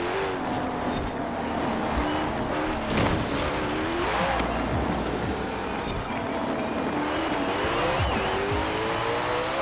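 Koenigsegg Jesko engine in Forza Horizon 4 howls steadily through shifting revs and gear changes, loud and close, with tire squeal and brief bumps along the way.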